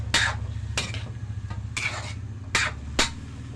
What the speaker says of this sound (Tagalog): Then, haluin natin muna, guys.